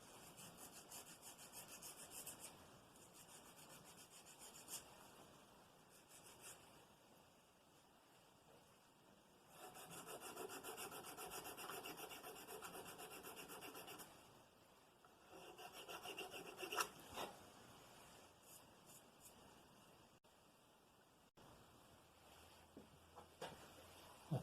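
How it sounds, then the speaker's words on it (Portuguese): Sandpaper rubs a miniature wooden doorknob in quiet, scratchy bursts of strokes, with pauses between passes and a few soft knocks, close and faint. "Aqui estou usando uma outra lixa, fazer um acabamento superior."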